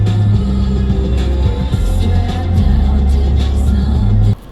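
Car engine idling with a steady low rumble, close and loud, holding throughout before cutting off abruptly at the end.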